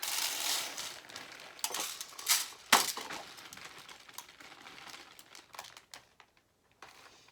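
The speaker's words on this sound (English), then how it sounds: "I'm going to pour the rice in." Dry rice poured into a cut-open plastic bottle gives a continuous granular rattling hiss with brief clinks and scattered crackles that swells, then thins and trails off into near silence.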